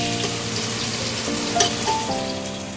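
Chicken kebab pieces fry in a pan with a steady, dense sizzle and crackle, close and loud, while a few soft clinks of stirring or turning sit under the hiss.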